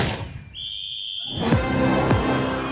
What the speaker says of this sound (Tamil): இன்று பறக்கும் நமது விசில் சத்தம்